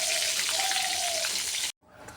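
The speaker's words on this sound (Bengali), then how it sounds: "তেল গরম হয়ে গেছে, এবার বেগুনগুলো দিয়ে দেবো।" Eggplant slices hiss and sizzle steadily in hot refined oil, a loud, dense frying crackle that cuts off abruptly near the end, followed by a softer sizzle.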